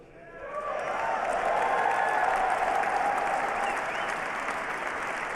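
An inauguration crowd bursts into applause that swells within the first second and holds steady, a broad wash of many hands clapping at a moderate distance with a few scattered cheers.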